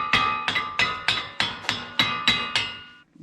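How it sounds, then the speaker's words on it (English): Eight sharp metallic hammer strikes on a Subaru STI axle at a steady, fairly quick rhythm, each ringing briefly, close and loud. "Need a smaller diameter hammer here."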